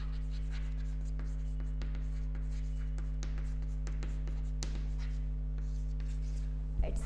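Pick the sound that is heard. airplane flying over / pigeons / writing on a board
writing on a board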